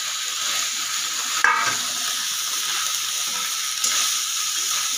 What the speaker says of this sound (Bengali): এবার এই মাছগুলো দিয়ে মশলা দিয়ে কষিয়ে নেব।